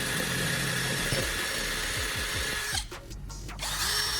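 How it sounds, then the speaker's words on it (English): A power drill whirs in bursts as it bores holes into the top of an aluminum WD-40 can, loud and close, with a short pause in the motor near the end. "using a drill to create holes for attaching the heating element"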